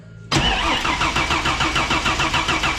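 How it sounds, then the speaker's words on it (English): A freshly rebuilt turbocharged car engine running on E85 cranks and catches abruptly, then runs loud and close with a fast, pulsing rhythm and a ticking injector chatter on top, with no voices. "I can hear the injectors"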